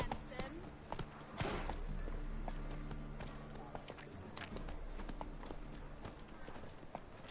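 Roach the horse's hooves clip-clop in a steady gallop in The Witcher 3, a continuous rhythmic pounding under game music with a voice speaking over it.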